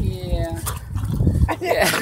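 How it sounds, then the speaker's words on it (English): A young puppy yips and whimpers in short, high bursts close by, while people talk over it. "He's just a puppy."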